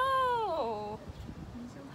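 A cat right below the listener lets out one loud, drawn-out meow that bends downward in pitch, followed by quieter rustling and faint sounds.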